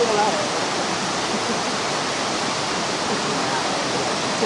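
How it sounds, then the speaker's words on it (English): The perennial Pomar waterfall and its stream, which irrigates village fields, pour out a steady, loud broadband rush with no break, close and continuous throughout. "The Pomar waterfall is perennial, and the stream irrigates the village fields"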